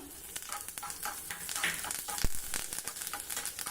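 Tempering of spices and curry leaves for a cucumber salad crackling in hot oil, a close, busy sizzle with sharp pops and spatters and one louder crack partway through.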